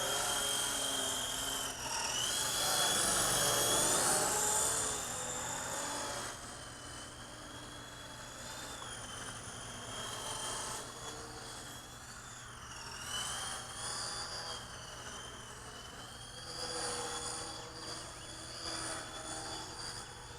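A FeiLun FX070c RC helicopter flies steadily nearby, its high rotor and motor whine rising and falling as it maneuvers, loudest early on and then holding a continuous buzzing drone.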